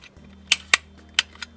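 Sharp plastic clicks from the button mechanism of a BMW E90 headlamp switch, four distinct snaps at uneven intervals over a low steady hum, close and fairly loud with no talking.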